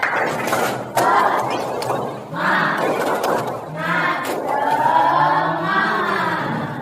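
A group in a class session does rhythmic spirit clapping (tepuk semangat), brisk hand claps mixed with loud shouting and chanting voices throughout.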